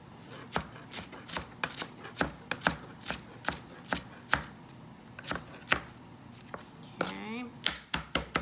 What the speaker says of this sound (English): So you just want to give your cilantro a nice fine chop